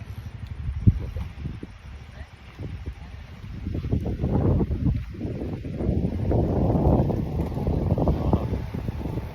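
Wind buffets the microphone in steady low rumbling gusts near Malampuzha, Kerala, rising stronger in the second half, with faint rustling in the background.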